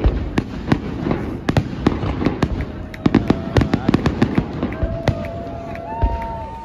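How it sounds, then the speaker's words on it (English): Fireworks burst over water crowded with boats, sharp repeated cracks and booms at an irregular rhythm, with a few whistling rockets and faint crowd voices in between. "lots of boats out in the water, waiting for the fireworks to start"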